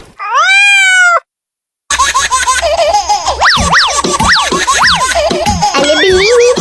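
A cartoon cat meows loudly in a long wailing call, then after a short silence keeps yowling in rising and falling swoops over busy background music and effects, in a horror cartoon.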